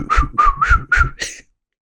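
A person whistles a short tune of four sustained, gliding notes followed by a brief higher fifth note, close and clear with no talking.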